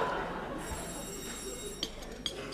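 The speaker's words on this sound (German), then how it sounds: "Das Telefon, Herr Bürgermeister." An old telephone rings in a Bavarian rural farce from 1964, a high steady bell tone running for about a second under faint background room sound, followed by a couple of soft knocks.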